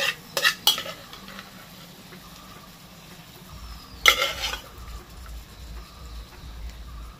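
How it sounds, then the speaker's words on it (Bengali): A spoon stirs and scrapes banana flower curry with coconut and prawns in a pan, giving a few sharp clanks against the metal over a soft, low sizzle. "এইবার এটাকে ভালো করে কষিয়ে নেব, শুধু কষানো"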